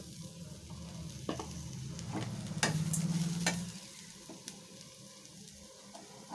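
Onions or aromatics sautéing in oil in a pan for a Tamil-style upurandai, a steady close sizzle with a few spoon scrapes and stirs, louder midway then settling.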